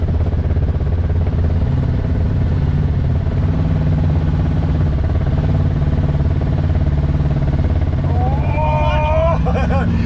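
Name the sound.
Yamaha motorcycle riding slowly, clutching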